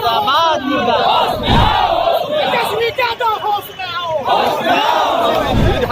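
Large protest crowd of thousands at a teachers' union rally in Rohtas, shouting slogans in loud, rhythmic unison, continuous and close throughout with voices swelling and dipping.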